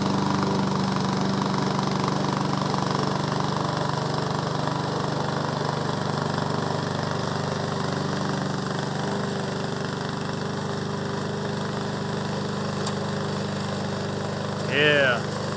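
A remote control lawn mower's engine runs in a steady, continuous mid-pitched drone throughout, and a brief voice-like sound is heard near the end.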